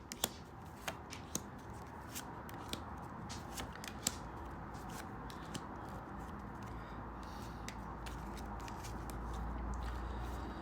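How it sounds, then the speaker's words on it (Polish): Lenormand fortune-telling cards being shuffled and laid out on a table, soft papery rustling with a string of sharp clicks and snaps near the start, quiet and close throughout. "Pozwólcie, że sobie rozłożę troszeczkę karty"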